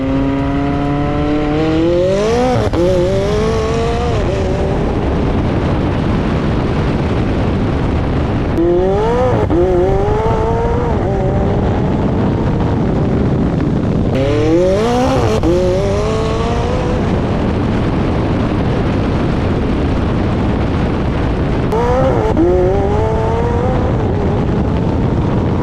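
Tesla Model S Plaid racing a 900hp McLaren on race gas: loud, continuous roar of straight-line runs, with rising whine-like sweeps repeating four times as the cars launch and pull hard, each burst fading back into steady engine and road noise.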